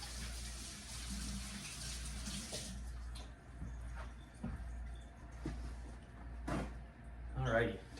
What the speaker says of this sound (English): wash the hands off